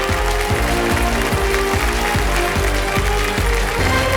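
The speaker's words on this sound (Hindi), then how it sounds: "तालियां बजते रहे देवी और सज्जनों" A KBC Season 14 studio audience claps steadily for a contestant on the game show set, the dense clapping running under a loud, rhythmic musical beat.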